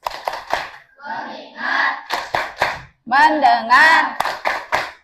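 A classroom of students claps a rhythmic focus chant together, bursts of hand claps alternating with group chanting voices in a steady call pattern.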